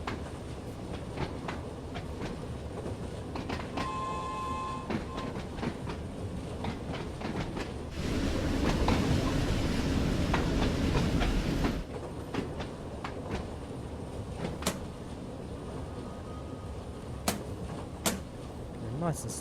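A Train Sim World 2 shuttle train on the Isle of Wight rolls slowly into a depot, with steady rumbling, clacking wheels and a louder surge of noise midway, while someone talks over it.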